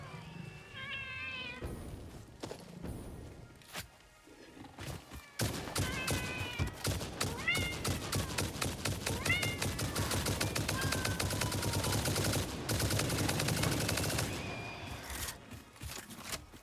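Several meows from a creature cut through dense, rapid gunfire in the video game Satisfactory, with crackling bursts dominating most of the stretch.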